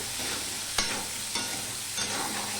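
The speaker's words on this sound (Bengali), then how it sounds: "আমি আলু পেঁয়াজটাকে ভালো করে ভেজে নেব" Potatoes and onions fry in a pan with turmeric and salt, a steady close sizzle broken by three scraping stirs of a spatula.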